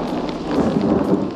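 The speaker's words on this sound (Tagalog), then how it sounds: "Lah, lumalakas na yung ulan." Heavy rain pours on Mount Apo in the Philippines, a hiking trail in a mountain storm. There is a dense, steady hiss of rain with low rumbling beneath it, and no voices are heard.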